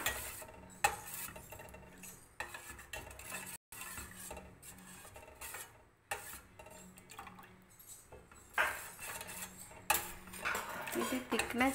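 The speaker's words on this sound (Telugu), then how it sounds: "ఇది థిక్నెస్ వచ్చే వరకు మిక్స్ చేసుకోవాలి." A spoon stirs ragi malt in a metal pot until it thickens, giving steady close scraping and clinking against the pot with a few louder knocks and no talk.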